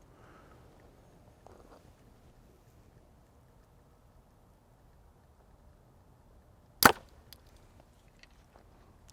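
A single sharp crack of an arrow loosed from a Hoyt Ventum 30 compound bow at 67 pounds through a chronograph, one brief loud snap rising out of quiet outdoor wind noise.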